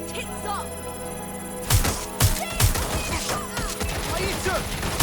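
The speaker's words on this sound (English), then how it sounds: "I'm taking fire!" Gunfire in Watch Dogs: Legion: a burst of sharp, loud shots starting partway through, followed by further scattered shots over steady game background noise and chirping sounds.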